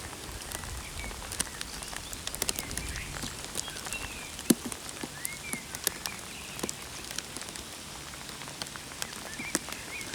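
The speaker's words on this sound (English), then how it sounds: "it's just raining and raining and raining" Steady rain patters on a surface, with scattered sharp drips and drops popping out over a soft continuous hiss.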